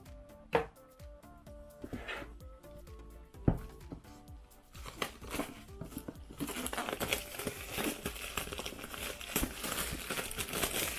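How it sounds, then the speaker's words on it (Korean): Thin transparent plastic wrap is torn off the packaging of an AVerMedia AM133 microphone, sharp close crinkles and snaps at first, then a sustained rustling, crackling tear that grows denser and louder toward the end. "저는 이 비닐을 뜯는 이 순간이 가장 즐겁죠"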